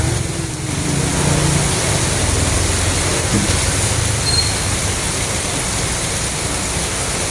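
Steady, dense broadband hiss of heavy monsoon rain, loud and continuous throughout with no voices.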